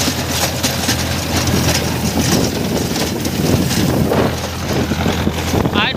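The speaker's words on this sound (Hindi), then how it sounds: "मैं ट्रैक्टर खड़े होकर चला रहा हूँ।" A Mahindra Arjun Novo 605 tractor with a rotavator runs in a field during heavy rain and strong wind. A loud, constant rush of wind and rain buffets the microphone, over a low engine drone.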